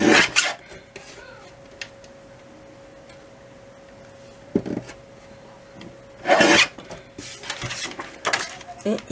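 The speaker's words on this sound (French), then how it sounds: "On découpe." Scissors snip paper for a Harry Potter craft album in a few brief, close cutting and rustling bursts, separated by quiet stretches with a faint steady hum.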